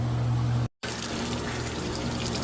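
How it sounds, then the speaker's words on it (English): Washing machine spraying water into the tub during its rinse cycle, a steady hiss and gush of water that cuts out briefly and then resumes, with a low motor or pump hum underneath. "Doing the sprinkle thing here on the rinse cycle."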